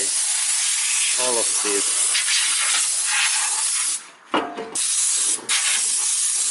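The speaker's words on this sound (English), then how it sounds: "And here is my compressed air, and then carefully I throw away" Compressed air blasting dirt out of a car or truck automatic transmission gearbox, a loud sustained hiss broken by brief pauses, with someone speaking briefly over it.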